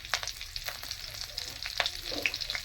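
Cumin and mustard seeds, then curry leaves, tempering in hot oil for Gujarati alu vadi (patra): a steady close sizzle with sharp crackles and pops scattered throughout, with no voices.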